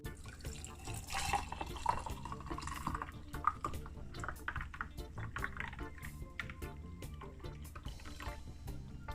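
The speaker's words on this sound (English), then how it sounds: "I have my glass here and I'm gonna put 2 cubes of ice, and I pour it in a different container so I can pour it out" Cucumber juice poured into a glass over two ice cubes, a continuous liquid trickle with small clinks and drips, fairly close and moderate in level with no talk.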